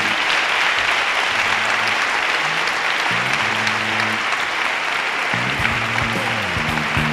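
Loud sustained crowd applause at a town fair proclamation in Úbeda, dense clapping throughout with tonal music or voices surfacing beneath it in the later part.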